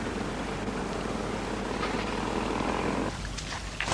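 A 650cc twin-cylinder Haflinger, an ex-Austrian Army vehicle, runs with a continuous low engine drone at a field event, steady and moderately distant, easing slightly near the end.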